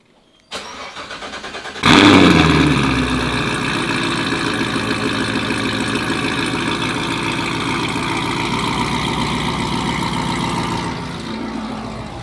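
A Corvette C7 Z06 V8 cranks and fires with a loud rising exhaust bark, then settles into a deep, steady, rumbling idle close by, with no talking.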